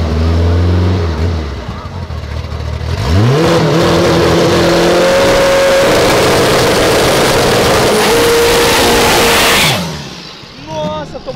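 Loud street drag race between a VW Voyage and a stock Jetta: engines rev hard and climb through rising gear pulls, roaring close by for several seconds before cutting off, with people talking over it.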